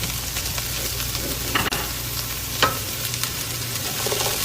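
Sliced pepper goes into a pan of cooked onion, frying with a steady close sizzle. A couple of sharp clatters and a brief burst of crackling come as the pieces land and are stirred. No voices.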